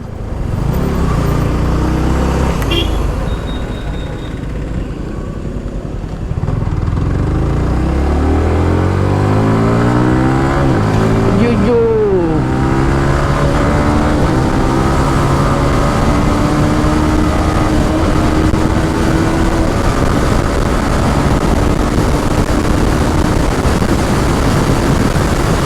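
A Yamaha R15 motorcycle rides along a road, its engine droning steadily with rising and falling pitch as gears shift, heavy wind rush on the microphone throughout.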